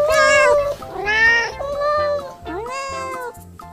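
A cat meows repeatedly, several loud, close, drawn-out cries in quick succession that rise and fall in pitch, with no talking over them.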